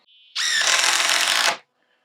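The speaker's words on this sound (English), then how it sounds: "first just a 2-inch cabinet screw" A DeWalt 12V Xtreme impact driver sinks a 2-inch cabinet screw in one loud, close, continuous burst of rapid hammering that lasts about a second before cutting off into quiet.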